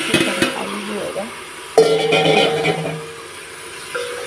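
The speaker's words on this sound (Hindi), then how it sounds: "इसमें चिकन डाल के मिक्स कर लीजिए।" A spoon stirs chicken pieces into a spice masala in a hot pan for Kerala-style chicken biryani, with scraping, clinking against the pan and a soft sizzle, plus a sharper metallic scrape partway through.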